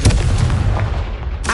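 A Confringo blast spell cast in the Hogwarts Legacy video game on PS5 booms out loud and close, a dense rumbling explosion that holds steady and then flares again with a fresh burst near the end.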